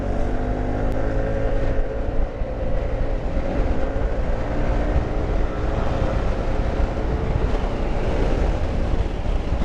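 A Yamaha-style adventure scooter fitted with an R1 racing pulley accelerates hard on the road, its engine drone steady and loud alongside heavy wind rush, with no voices.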